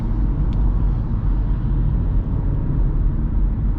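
A 2023 Kia Forte LXS cruises on the freeway at about 45 mph, a steady roar of road and tire noise inside the cabin with no speech.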